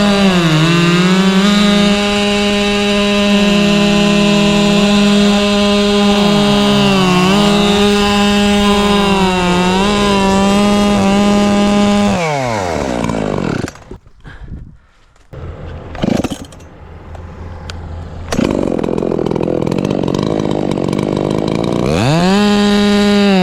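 A chainsaw with some chain teeth removed runs loud and close, its pitch dipping as it bites into wood, then cuts out briefly before revving back up.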